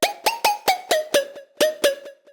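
Serum pluck synth preset for future bass, a brisk sequence of about ten punchy plucked notes with bright harmonics and short tails, played alone and up front.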